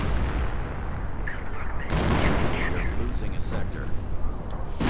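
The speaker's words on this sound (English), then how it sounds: "More artillery in this case, again against the medic bunker." Artillery fire in a 1v1 strategy video game match, a dense, continuous rumble of shelling and blasts mixed with other battle noise beneath steady commentary talk.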